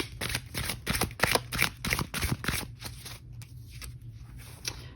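A deck of oracle cards is shuffled close by, with quick papery riffling bursts for a few seconds that then thin out into softer, scattered card rustles.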